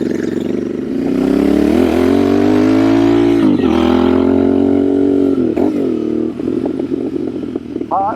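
A new Royal Enfield Bear 650 motorcycle fitted with a Dustland shotgun exhaust, loud and close, its engine rumbling and revving up and down with a throaty tone over the whole stretch.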